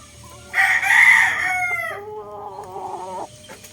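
A Boston Roundhead rooster gives one loud, close crow, opening with a strong rising call and trailing into a long wavering fall before stopping, with no talking over it.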